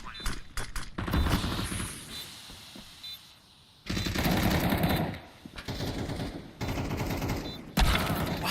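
Bursts of rapid gunfire from a shooter video game with smoke grenades and a bomb plant, loud and repeated in several long volleys separated by short pauses, with a voice talking over parts of it.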